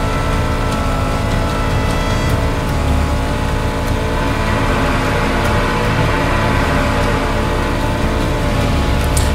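A truck in the video game Just Cause 3 drives over rough, rocky ground with its tires bouncing, its engine a loud, unbroken roar that holds steady from start to finish.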